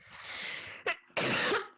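A brief sharp sneeze bursts out after a soft breathy intake, followed by a second forceful exhale, close and loud.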